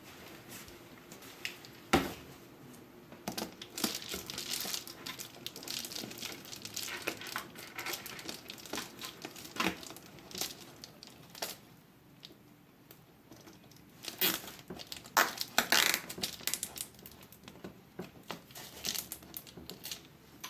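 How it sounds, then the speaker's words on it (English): A zip tie is fastened around a DIY seed-starting shelf frame. Close, irregular crinkling, rustling and small ratcheting clicks come in uneven bursts over a quiet background. "we're zip tying this around here"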